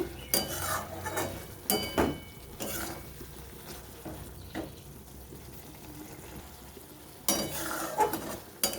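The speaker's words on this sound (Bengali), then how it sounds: "ভেজে রাখা মাছগুলো দিয়ে কিছুক্ষণ এভাবে নেড়ে চেড়ে নেব" Fried fish being stirred and turned in a pan, with intermittent scraping and clattering strokes over a soft background sizzle, nearby and fairly quiet, with bursts of activity at the start and end.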